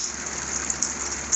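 Steady heavy rain falls at 34 degrees on a farm, a continuous dense hiss with scattered drip accents and a faint high ringing tone running through.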